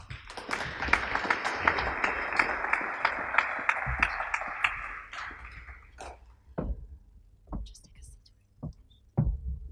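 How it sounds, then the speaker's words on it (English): Audience applause for the four speakers of a panel on innovation in China, a dense burst of clapping from a hall crowd that thins out into a few scattered claps. "So please, a big applause to the 4 speakers."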